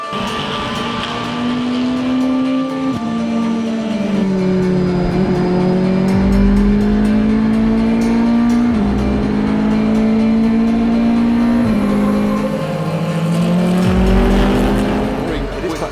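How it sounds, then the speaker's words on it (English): The number 23 prototype race car locks a tyre under braking during an endurance race in Malaysia, with a brief squeal amid loud engines that downshift and rev as cars pass, and commentary runs over it. "That was a lock up there from the 23 car, Guy Cosmo."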